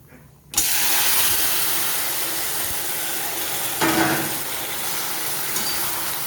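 Hot garlic and mustard seed tempering is poured into a taro and pumpkin curry, setting off a sudden close-up sizzle that settles into a steady hiss, with a brief flare partway through.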